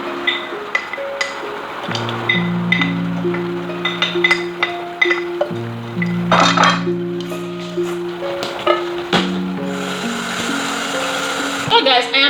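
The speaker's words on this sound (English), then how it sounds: "I am going to blend my pepper, you know, and these onions also" Blender pureeing scotch bonnet peppers and onions for Nigerian banga soup, a continuous whirring motor with steady humming tones that shift in pitch, with small clinks throughout.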